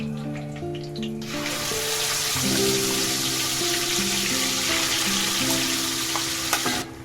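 Prepared gravy for masala palak paneer hits a hot pan of oil with whole spices, black cardamom, star anise, cloves and curry leaves, bursting into a loud, steady sizzle that holds for several seconds before settling, with no talk.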